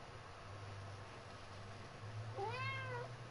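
A cat meows once outdoors on a street, a single rising-falling cry near the end over a steady low hum and background noise.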